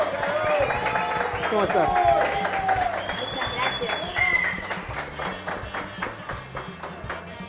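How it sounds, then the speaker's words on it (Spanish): A studio audience on an Argentine TV show claps and whistles for a guest, with steady applause fading gradually while a host and guest talk over it. "Quiero que se venga abajo de aplausos, de gritos, de silbidos"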